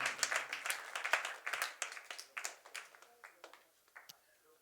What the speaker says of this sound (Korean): 박수 한번 하실까요?